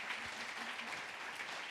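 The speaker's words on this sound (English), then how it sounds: "Give a warm round of applause for Kent." Audience applause at the close of a Kent Presents stage talk, a steady dense clapping from a crowd sustained evenly throughout, with no voices over it.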